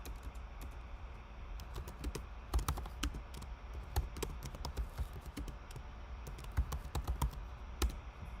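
Someone typing on a computer keyboard in rapid, irregular clicking bursts, close but soft, over a low steady room hum, with no talking.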